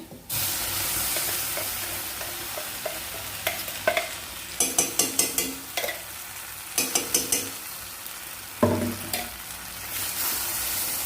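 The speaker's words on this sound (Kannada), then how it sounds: "ಇವಾಗ ಈ ಥರ ನುಣ್ಣಗೆ ರುಬ್ಕೊಂಬಂದಿರೋ ಈ ಚಟ್ನಿನ ಇದರೊಳಗಡೆ ಹಾಕ್ತೀನಿ." Ground coriander chutney sizzles and fries in a pan with golden fried onions, the steady hiss broken by repeated scraping stirs of a spoon, close up and without talking.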